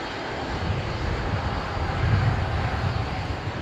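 Qantas Link Q400 turboprops arrive at Brisbane Airport, a steady dense engine drone with low rumbling, holding at even loudness and heard alone for a few seconds.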